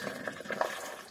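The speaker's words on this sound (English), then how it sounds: "A very hot water bottle." Water gurgling as a hot water bottle is filled aboard a canal boat, a brief close run of bubbling, glugging pulses with no talk.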